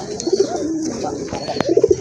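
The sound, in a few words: pigeon cooing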